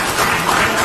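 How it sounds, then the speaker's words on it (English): A studio audience claps in a dense, even wash that is loud and close and holds steady through the brief stretch. "I believe that is applause worthy"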